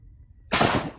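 A single gunshot fired outdoors during an amulet test in Cavite, a sharp loud crack after a quiet moment, decaying quickly.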